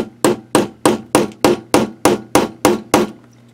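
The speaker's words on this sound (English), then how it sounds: "You might need to give it an extra, you know, bit of hammering to get it to attach through all those thick layers of fabric." Eleven evenly spaced, sharp metal-on-metal hammer blows drive an eyelet setter through thick layers of denim, each strike close and loud with a brief ringing decay, and no talking.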